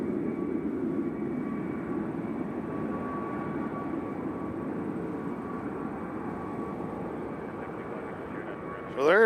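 An airliner at Nashville International Airport produces a continuous steady engine roar and whine that stays loud and close throughout, with a brief louder swell at the end.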